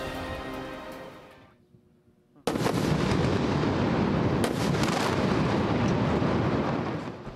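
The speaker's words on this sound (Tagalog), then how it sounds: "Pagkatapos ng sunod-sunod na pagsabog," An Israeli airstrike on a Gaza City tower sets off a sudden, sustained roar of explosions and collapsing debris after a brief lull and an earlier rumble, loud and continuous, with no one speaking.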